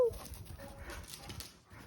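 A fat pet dog gives a brief high whine at the start, then soft snuffling and mouthing noises close by during play with a ball.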